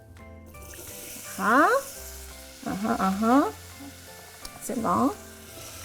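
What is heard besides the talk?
onions and celery frying in hot oil in a saucepan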